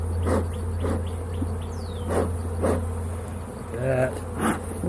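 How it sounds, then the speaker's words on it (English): Insects buzz in repeated bursts over a steady low hum, with a brief chirp near the end; several buzzing passes come and go close by. "Bees. Ooh, yeah, bees."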